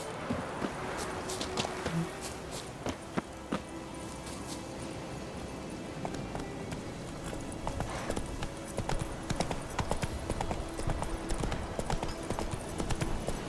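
Roach the horse galloping in The Witcher 3, a steady run of hoofbeat clip-clop throughout, close and continuous against faint outdoor ambience.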